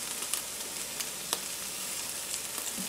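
Oil heats in a hot pan for Chinese fried rice, giving a steady, moderate sizzling hiss with a few sharp crackles and pops scattered across the short stretch.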